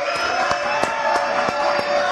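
A studio audience on a French news-style show claps in a rhythmic, evenly spaced beat under a lively crowd murmur, sounding close and fairly loud for about two seconds.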